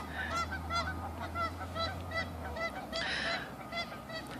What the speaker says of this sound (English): I'm getting honked at by geese.